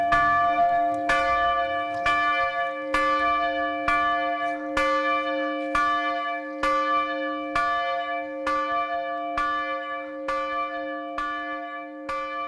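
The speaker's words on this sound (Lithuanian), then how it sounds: "Eikite tą varpą filmuot greitai." A church bell rings repeatedly in a steady, slow rhythm, each loud clang blooming into a long resonant hum that overlaps the next strike.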